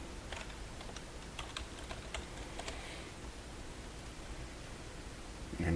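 Login credentials being typed on a computer keyboard, a quick run of soft key clicks over steady background hiss, fading into quiet before a closing rustle.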